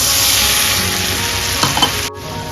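Ground spice paste for a Bengali fish roe curry hits a hot oiled pan with a loud, close, continuous sizzle, a few stirring knocks, then a sudden brief drop before the frying resumes.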